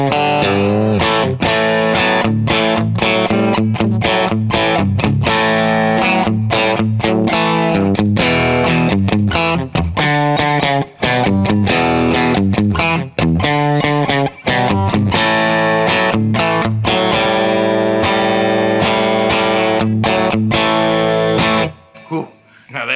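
A hollow-body F-hole Telecaster played through its bridge single-coil pickup with heavy distortion, loud, rapid chords and riffs with brief pauses, ending in a few scattered notes.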